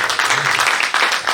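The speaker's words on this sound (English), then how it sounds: "I think we should all give them a round of applause." Conference attendees at a national project management event clap for the volunteers, a short burst of close, uneven hand claps with distinct individual slaps.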